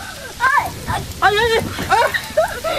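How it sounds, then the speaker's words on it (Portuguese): Rain patters steadily in the background while voices talk and exclaim close by. "Nossa, é chuva de verdade, gente."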